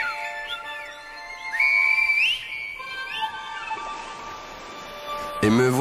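Shrill Silbo whistled-language notes glide up and down in melodic phrases, fairly loud and clear, with some voice-like sounds mixed in near the end.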